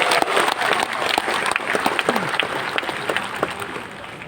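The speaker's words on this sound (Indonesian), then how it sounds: "Kita berikan tepuk tangan juga." Audience applause from a large hall crowd at a party congress, the NasDem national working meeting at JCC Senayan, Jakarta; steady dense clapping fills the moment, with a few louder individual claps standing out.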